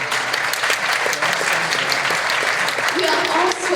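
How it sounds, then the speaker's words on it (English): Loud, dense applause fills the hall at a Taiwanese and Hong Kong community Lantern Festival dinner in Toronto, a continuous roar of many clapping hands close by, with a voice rising briefly near the end. "Please give applause to yourself."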